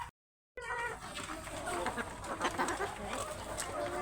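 Chickens cluck and squawk close by while eggs are gathered from their nests at feeding time, a busy, continuous stream of hen calls after a brief silent gap at the start.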